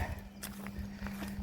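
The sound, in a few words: horses walking, hooves clip-clopping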